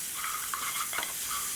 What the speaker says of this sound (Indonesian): Kita aduk, kita tumis ya. Rempah-rempah kita tadi ya, sampai mateng.